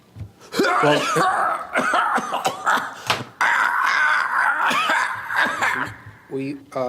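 A man coughs repeatedly in harsh bursts in a courtroom, with throat clearing and a chuckle mixed in among voices.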